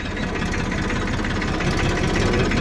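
A tractor engine runs roughly without its usual smoothness, a steady, close, throbbing mechanical drone that continues throughout with no voices.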